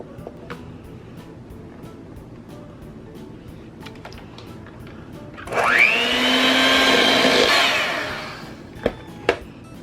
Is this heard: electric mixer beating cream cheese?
yes